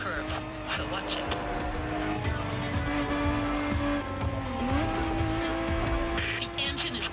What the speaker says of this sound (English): The engine is giving its all.